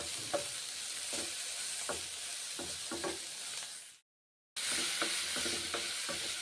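Bitter gourd slices fry in a pan with green chilli and ground spices, giving a steady broadband sizzle punctuated by periodic scraping stirs, broken by a brief silent gap before the sizzling and stirring resume.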